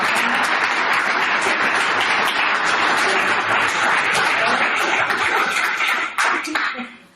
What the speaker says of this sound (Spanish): Bueno, le vamos a dar el aplauso ya, por favor.